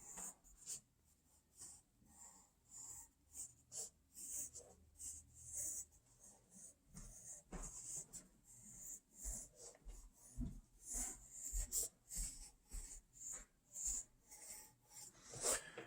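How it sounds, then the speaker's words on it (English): A pencil drawing an outline on paper, a close, quiet sequence of short scratchy strokes in an uneven rhythm with brief pauses between them. "And now when I draw my outline"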